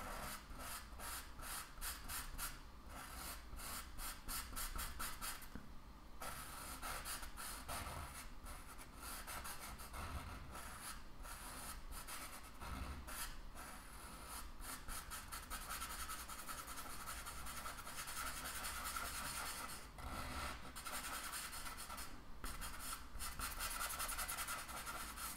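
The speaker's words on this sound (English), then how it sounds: "So I'm just filling all of this in with gray." Soft pastel stick rubbed over paper while filling in an area with gray, a steady close scratchy rasping that continues throughout with rhythmic strokes and no talking.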